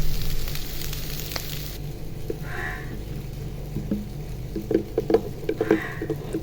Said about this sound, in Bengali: এখন সব ডিমের সাথে সব মিক্স করবো, মশলা দিয়ে মিক্স করবো এখন।